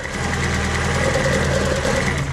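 The engine of a Mk1 Ford Escort ST170 with a suspected VVT solenoid fault idles close by with a steady, low rumble and a faint rhythmic knock, running unchanged throughout.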